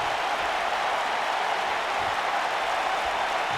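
Simulated arena crowd in a WWE 2K wrestling video game roars and applauds for a match in Salt Lake City, a loud, dense, unbroken wash of cheering with no commentary over it.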